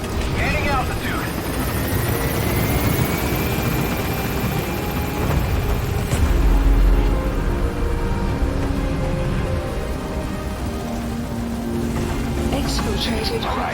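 A helicopter climbing away in the video game Metal Gear Solid V: The Phantom Pain, a steady loud rotor and engine roar that holds throughout with a rising whine.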